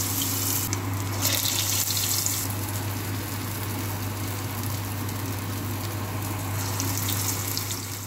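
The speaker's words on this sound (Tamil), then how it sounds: "இப்போ வடைக்கு எண்ணெயில் இறக்கிடுங்க" Medhu vada batter sizzles as it fries in hot oil, a dense steady crackle and hiss close by with a faint low hum underneath, no voices.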